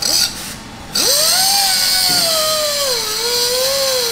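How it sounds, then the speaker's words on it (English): Whining high-speed power tool cutting an upper ball joint stud on a Tahoe truck build, a brief start then a sustained close, loud pitched drone that wavers and dips slightly as it bites. "Makes me nervous when Zach has to cut stuff."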